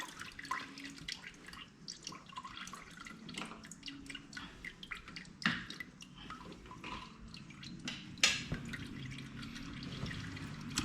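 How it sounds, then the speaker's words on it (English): Coolant draining from a 2009 Kawasaki Vulcan 1700 Classic motorcycle, a faint trickle and irregular drips into a container, quiet and close. "Let that completely drain right out, and it's good to go."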